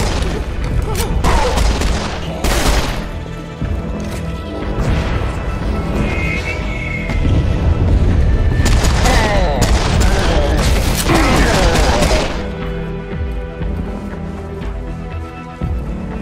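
Heavy gunfire and booming blasts from the Serious Sam 4 first-person shooter, loud and dense throughout with bursts of shots, crashes and impacts layered over a constant rumble of battle noise.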